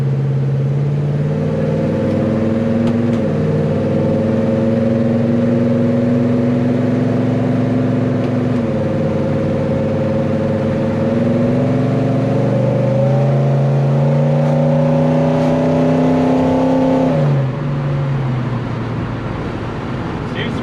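A 1970 Chevelle V8 fitted with a Holley Double Pumper carburetor revs up and down in several loud, close pulls, its pitch climbing and falling, with the mixture running too lean everywhere except when the secondaries open.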